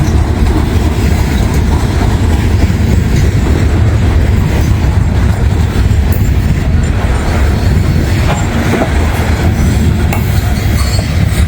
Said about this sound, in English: there goes that coal train